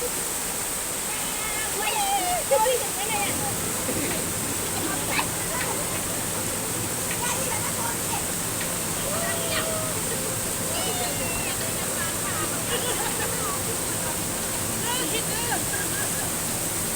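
Chitrey Waterfall pours steadily as a broad, constant rush of water, loud and near, with friends chatting and calling out over it.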